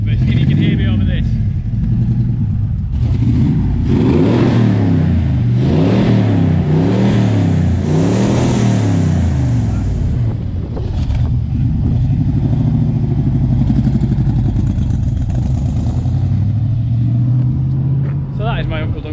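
A classic Cobra sports car revs loudly nearby, its engine note climbing and falling in repeated throaty surges, then settling into a rumbling idle, with voices talking over it.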